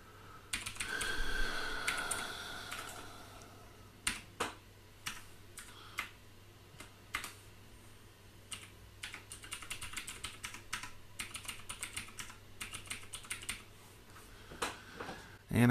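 Rapid bursts of typing on a computer keyboard while entering a username and password during Ubuntu 19.04 desktop setup, close and clear, in irregular clusters of key clicks with pauses between.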